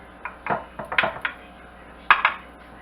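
A knife cuts into biscuit dough spread in a metal pan: a handful of close, sharp scraping clicks against the pan, spaced irregularly with quiet gaps between.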